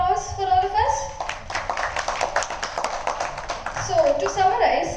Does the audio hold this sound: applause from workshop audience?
yes